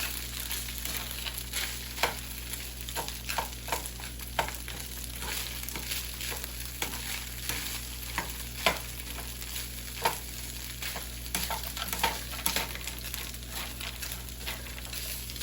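Fried rice frying in a pan gives a steady, close sizzle throughout, broken by scattered light clicks and scrapes of stirring, with no talking.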